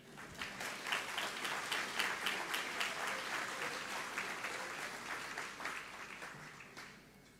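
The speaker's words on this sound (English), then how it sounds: "give him a round of applause" A school hall audience at a Catholic college graduation ceremony claps steadily, many hands in a loud sustained round of applause that gradually fades out.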